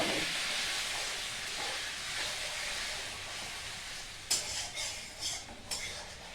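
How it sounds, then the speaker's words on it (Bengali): Katla fish curry hisses steadily in a hot pan once water goes in, a broad, even sizzle that lasts throughout, with a few sharp utensil scrapes and clinks near the end. "একটুখানি জল দিলাম, এখন একটুখানি কষিয়ে দেবো।"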